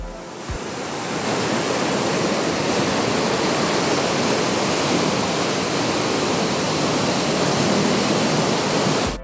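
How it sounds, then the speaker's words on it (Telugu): Strong water flow at the Vijjeswaram barrage in Konaseema: a loud, unbroken roar of rushing water that swells in the first second and then holds steady, with no voices. "ఇక్కడ వాటర్ ఫ్లో కూడా చాలా ఎక్కువగా ఉంది"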